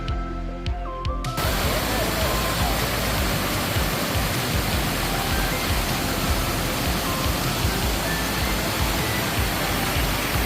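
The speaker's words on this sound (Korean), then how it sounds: "처음으로 맞이하는 폭포입니다." Water thunders steadily down a high-drop waterfall in a Jiuzhaigou valley, above 2,500 m, a loud, unbroken rushing roar that sets in after a second of faint sounds.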